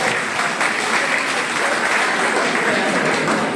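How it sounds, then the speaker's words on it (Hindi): A crowd at a Holi gathering hosted by the Kasganj Bar Association claps loudly and continuously, a dense, even wash of applause with no voices on top. "उनके लिए मैं चाहूंगा जोरदार तालियां एक बार"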